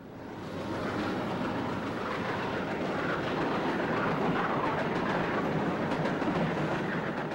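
A Norfolk & Western SD-45 diesel locomotive heads a southbound train past a street crossing in Marion, a loud continuous rumble and roar with faint clickety-clack of wheels, close and unbroken after a quick fade-in.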